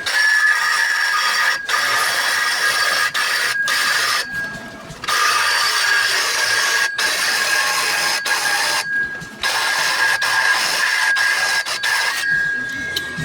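A saw blade cuts through the exhaust pipe of a 1978 Chevy Malibu Classic, a harsh, buzzing grinding noise in loud bursts, stopping briefly several times before starting again, with no talking.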